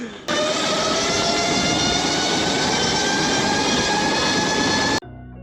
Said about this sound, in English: This bike is loud, but I finished the mini bike build, and this thing rips.